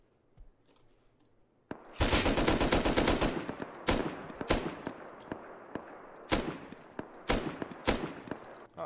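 Rapid bursts from an LR300 rifle in a video game, loud and close, with sustained automatic fire followed by several spaced shots and short volleys.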